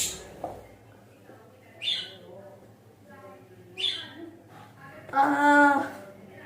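Pet birds fighting with each other, giving sharp squawks and harsh screeches in scattered bursts, with a louder burst near the end against a quiet room background.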